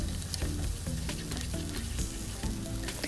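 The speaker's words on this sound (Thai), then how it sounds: "นำหอมมาเจียวนะคะ นำหอมมาคั่วให้หอมดีนะคะ" Shallots fry in a pan for butter chicken, giving a steady, close, dense sizzle and crackle with no pause, with faint stirring scrapes underneath.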